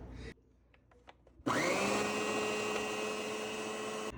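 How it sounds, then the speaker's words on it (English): A blender whirs loudly for about two and a half seconds, mixing melted butter into a cheesecake crust, after a short stretch of quiet handling noises. "And then I'll blend it really good."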